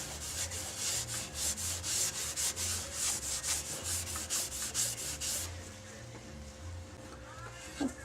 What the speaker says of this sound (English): Now I'm going to use Yorkshire grit because it is at least the right color